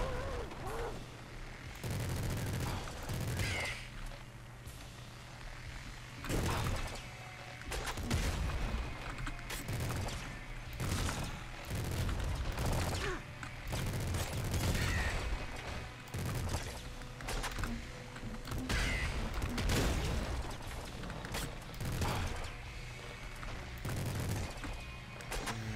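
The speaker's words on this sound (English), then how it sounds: "I'll take the minigun." Repeated bursts of heavy weapon fire from a minigun in Nuclear Throne hammer out in rhythmic clusters, loud and close, with short pauses and mechanical clatter between volleys.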